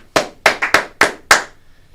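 Five sharp, distinct hand claps ring out close and alone in an uneven rhythm, each with a quick decay, followed by near silence.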